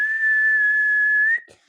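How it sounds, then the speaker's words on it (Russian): A person whistles one long, steady, loud tone without blowing air, holding it for over a second before it slides up at the end and cuts off. "а сразу просто свистеть."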